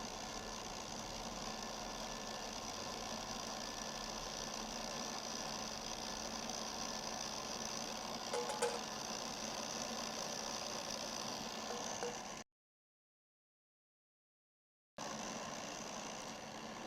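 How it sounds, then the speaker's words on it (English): An electric mixer runs steadily on low speed through a cocoa mixture for chocolate cake batter, giving a continuous motor whir. The sound cuts out briefly near the end and then resumes. "my mixer is on a low speed to avoid splattering"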